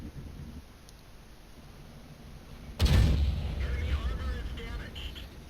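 A single heavy tank cannon boom in a video game, with T-34 and Jagdpanther II tanks, hits suddenly after quiet ambience, followed by a rolling rumble and faint game sounds as it fades.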